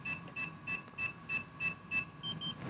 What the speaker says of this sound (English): Push that, you're gonna listen for the beep.